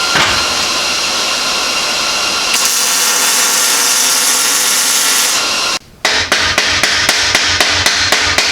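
Loud metal-on-metal hammering on a 3-inch exhaust pipe while welding, Ford F250: a sustained clangorous stretch, then a brief pause followed by a steady series of sharp, evenly spaced strikes, close by.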